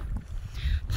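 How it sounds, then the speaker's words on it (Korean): Strong gusts of wind buffet the microphone on a Santiago pilgrimage trail, a steady low roar that swells in two louder surges, with no talk. "바람 많이 났는데 바람이 너무 많이 불어가지고"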